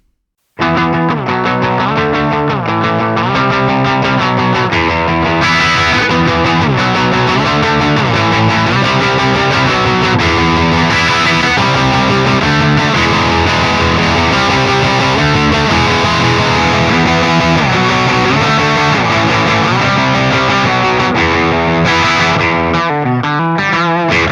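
Electric guitar played through the orange crunch mode of a Bogren Ampknob MLC Subzero 100 amp sim gives a loud, continuous crunchy distorted tone with chords and riffs that runs alone and unbroken for about twenty-four seconds.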